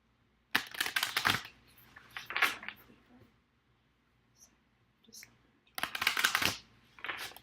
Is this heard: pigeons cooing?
no